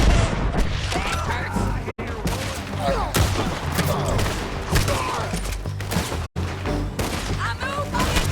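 Rapid gunfire from a Red Dead Redemption 2 shootout, dense overlapping shots and booms crackling continuously with brief gaps, while voices shout over the battle.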